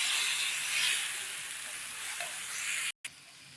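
Garlic sizzles and fries in a pan while being stirred, a steady close hiss broken by a brief scrape and a moment of near silence toward the end.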